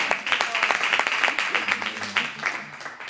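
A church congregation breaks into applause in praise of God, a dense patter of many hands clapping steadily for about three seconds, with faint voices mixed in.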